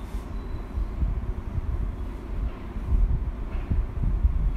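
A rapid service train approaches the platform at Tsuruga station in snowy weather, a steady low rumble of wheels and motor rising slightly toward the end, with faint wind noise and no voices.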